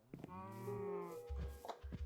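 A cow in the Minecraft video game gives one long, clear moo, drawn out and close, followed by a few soft thumps.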